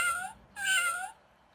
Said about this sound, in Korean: 네, 고양이 소리도 있고